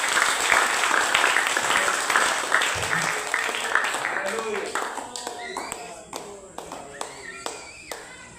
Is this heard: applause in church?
yes